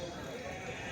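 Sheep bleating at a busy weekly livestock market, a short nasal bleat close by amid crowd murmur and people talking.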